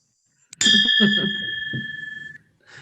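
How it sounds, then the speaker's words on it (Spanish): A ringing bell opens a Rotary club meeting, struck once with a clear sustained tone that rings out for about two seconds and then stops, with faint murmurs underneath. "Así que pasamos al toque de campana, que tengo que hacerla virtual porque no me la traje acá a Cusco."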